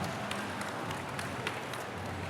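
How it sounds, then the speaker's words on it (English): Audience applause at the Essence Festival 2024 Freedom in Farming session, a steady wash of many hands clapping with scattered sharper claps, fairly even throughout and moderately faint. "Please give them a round of applause for all of this amazing information today."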